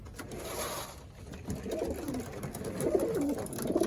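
Older racing pigeons, blue check and pied, coo in a loft, several soft throaty calls overlapping near the end against a steady background hum.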